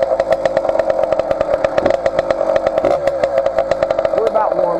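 A 49cc motorized bicycle engine idles as it warms up, a steady rapid putter with quick regular firing pulses, close and loud, while a voice talks over it.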